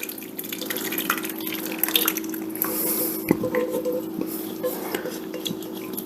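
Thick sauce mix for a fish pie is poured and scraped with a small spatula over fish in a dish, giving soft wet squishes and drips with light clinks of utensils over a steady kitchen hum.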